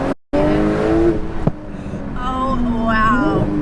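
A tuned 1100 bhp Porsche 911 Turbo S launches hard, with a brief dropout then a rising engine drone with tire chirp, heard from inside the car, loud and close.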